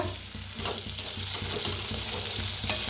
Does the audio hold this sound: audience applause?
no